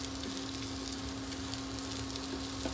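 Rice toasting in melted butter in a pan gives a steady, dense sizzle with faint crackles, close and unbroken, with a constant hum underneath.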